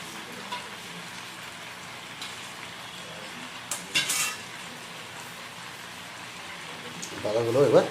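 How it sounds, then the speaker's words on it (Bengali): Pumpkin leaves are stirred into fried pumpkin, potato and aubergine in a pan, giving soft scraping and clinking of a spatula over a low sizzle, with a louder clatter near the end and talk over it. "পাতাগুলো এবার মিশিয়ে নেব।"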